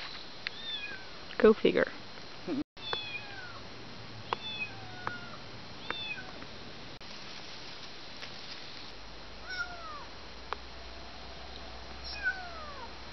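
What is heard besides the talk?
kitten meowing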